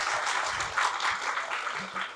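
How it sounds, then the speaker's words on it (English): Audience applause for a performer at a book event at Midtown Scholar in Harrisburg, a steady wash of many hands clapping throughout, with faint low voices underneath. "Can we just have a big round of applause for Vashti"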